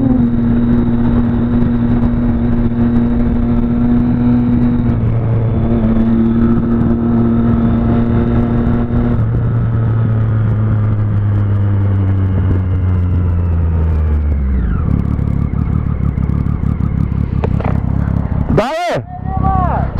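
A Honda Hornet motorcycle revs loudly nearby, the engine note holding high and steady before dropping sharply, then roaring again in a brief burst near the end.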